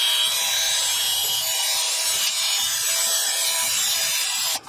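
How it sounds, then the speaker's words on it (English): A wire wheel spun by a drill grinds and scrapes against rusty metal on a 2021 Kia Telluride front brake, a harsh continuous hiss that holds steady before cutting off at the end. "We're just gonna use a little wire wheel here on a drill."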